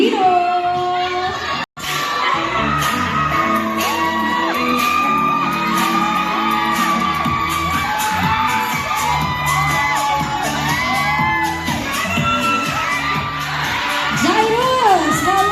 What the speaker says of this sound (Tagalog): Andito na't sumisigaw, humihilaw, pumapalakpak at nagtitilian para kay Jairus Aquino!